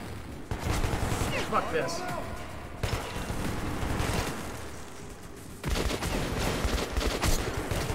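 Gunfire in Metro 2033 Redux on Xbox One: dense bursts of sharp shots and impacts filling the whole stretch, loud and close, with a man swearing over them.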